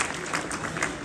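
Short burst of conference audience applause for the organizers at an international conference, steady clapping from a room of people at a moderate distance.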